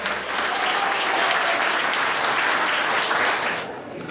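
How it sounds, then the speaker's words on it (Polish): Wedding guests in a reception hall give the bride and groom a hearty round of applause, loud dense clapping that rises quickly, holds steady, then fades out near the end. "na początek gorące brawa dla pary młodej"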